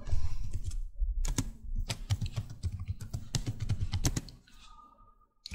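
Rapid typing on a computer keyboard, with bursts of sharp key clicks in irregular rhythm close to the mic, pausing near the end before a last faint click.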